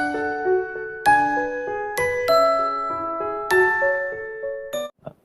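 Bell-like notification chime in a bright tinkling melody, with several rising phrases of clear ringing tones over about five seconds and a short ding at the end, loud and alone.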